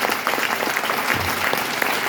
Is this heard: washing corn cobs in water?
no